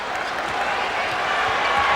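A large basketball arena crowd roars and cheers steadily during the 1985 NBA Finals Game 5 between the Celtics and Lakers, a dense, sustained wash of noise that swells slightly toward the end.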